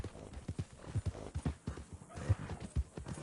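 A horse in Red Dead Redemption 2, the western video game, trots with steady rhythmic clip-clop hoofbeats and a brief whinny, moderately close and fairly quiet, alone without talk.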